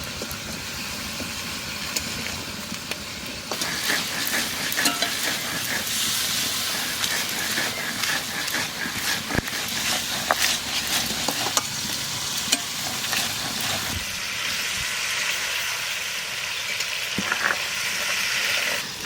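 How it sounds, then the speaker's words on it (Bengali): Mango pieces fry in a pan for a sweet-and-sour pickle, producing a continuous soft sizzle and hiss broken by scraping bursts of stirring, fairly quiet and close. "আমগুলো একটু বাজিয়ে নিলাম"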